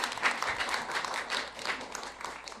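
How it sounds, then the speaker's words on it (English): An audience at a political party town hall in Lafayette, Louisiana applauds, a steady wash of many hands clapping at moderate, somewhat distant volume. "Round of applause, Jay Reagan."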